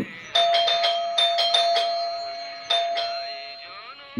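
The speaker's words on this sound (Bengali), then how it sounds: "সেই সময় কলিং বেল বেজে উঠল" An electronic doorbell chimes close by, a quick run of bright tones ringing twice, then fading out into silence.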